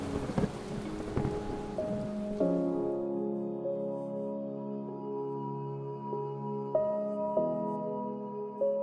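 Rain hisses steadily at first, then sustained tonal music rises and carries on over the fainter patter of the rain.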